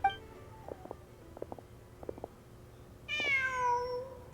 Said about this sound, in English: Oh, hi, kitty.